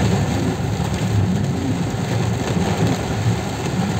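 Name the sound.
rain falling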